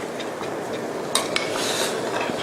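Tapioca starch slurry being stirred into boiling fish maw soup in a pot, a steady bubbling simmer with a few soft scraping clinks of the utensil, close and fairly quiet.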